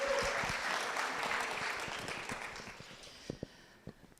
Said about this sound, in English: Round of applause for Kelsey for letting us dream today